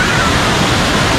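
Hogenakkal waterfall roars as a loud, dense, unbroken rush of falling water that fills the whole scene and masks any other sound.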